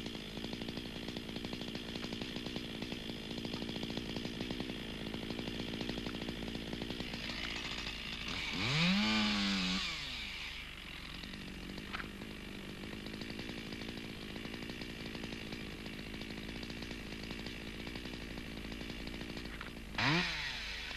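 A chainsaw limbs a felled tree, its engine droning steadily at moderate distance, rising into two louder revving whines as it bites into branches, the second near the end.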